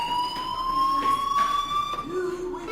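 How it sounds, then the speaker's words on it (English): A fire alarm rings in the video game Life is Strange, a steady high electronic tone sounding continuously and fairly loud, with a character's voice speaking over it in the background. "do you hear that fire alarm?"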